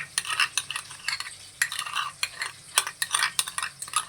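A spoon stirs butter and mayonnaise together in a bowl for a homemade zinger burger, giving close, steady scraping and wet squelching strokes in an uneven rhythm, with no talking.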